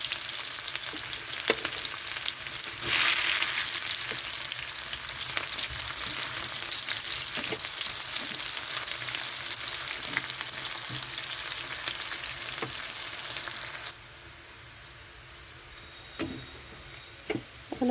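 Onion frying in mustard oil after nigella seeds and garlic, a steady close sizzle with occasional stirring taps, loud for most of the stretch and then dropping to a quieter hiss near the end, no voices.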